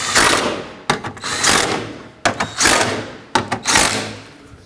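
Screws being snugged down on a washer fluid tank in a 2007-2009 Saturn Aura, with three bursts of close, loud rattling, clicking and scraping of a driver and plastic, separated by short sharp knocks.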